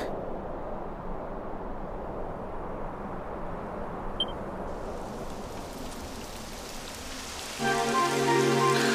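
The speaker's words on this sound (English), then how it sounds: "It would have to go and start raining, wouldn't it?" Steady rain falls in a Dragon Quest XI game scene as a constant hiss. A brief tone sounds midway, and a layered musical drone swells in near the end.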